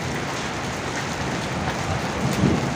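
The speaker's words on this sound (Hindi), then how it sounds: "यहाँ को आ रही है और पूरा बिजली कड़क रही है ऊपर आसमान में, ख़तरनाक मौसम हो चुका है।" Heavy rain pours down during a storm, a loud, dense wash of noise with a low rumble of thunder swelling near the end.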